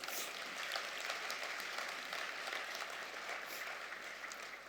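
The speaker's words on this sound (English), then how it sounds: "Give yourself another round of applause." A graduation audience applauds, a broad, even wash of many hands clapping at a steady level that continues throughout the stretch.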